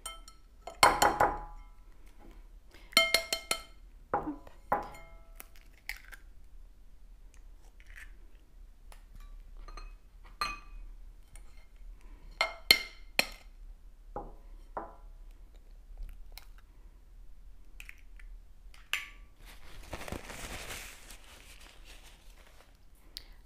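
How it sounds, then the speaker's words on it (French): Two eggs are cracked into a bowl of sugar amid scattered sharp cracks, clinks and knocks on a kitchen counter, then a brief gritty rush near the end. "on va verser le sucre et on va casser nos 2 œufs"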